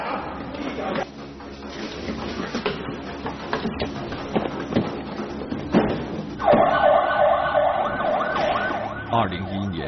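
A police car siren starts wailing partway through, a loud, steady tone at a crime scene, layered over a busy mix of shouting voices and commotion.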